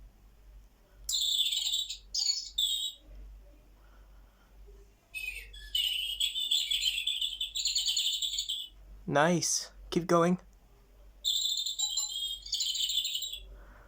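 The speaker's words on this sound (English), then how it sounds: "Here we go, the 11 o'clock Robin." Bird clock chiming the hour at 11 o'clock with a robin call: several bursts of bright chirping song with short gaps and a brief lower sweeping call in the middle, plus a short spoken remark.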